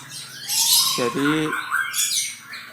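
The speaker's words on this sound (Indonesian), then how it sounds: "Satu rumah dengan puluhan murai batu. Inilah yang setiap pagi kita dengarkan di sini." White-rumped shamas (murai batu), dozens kept in one house, give a loud squawking call with bright chirps around it, heard close. A voice briefly speaks over the birds.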